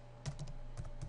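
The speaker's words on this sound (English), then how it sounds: "Press Tab and in the email address field type" A few soft keystrokes on a computer keyboard while entering an email address into an accounting program's company setup form, faint clicks in two short clusters over a steady low hum.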